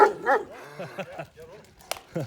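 A dog gives a few short barks and yips close by, mixed in with people talking over it in Turkish at the start and end.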